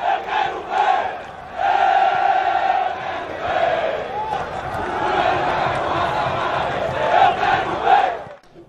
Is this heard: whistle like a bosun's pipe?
no